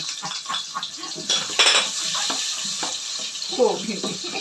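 Garlic, onion and ginger are sautéed in a home kitchen pan. A utensil clinks and scrapes against the cookware in irregular strokes over a faint sizzle.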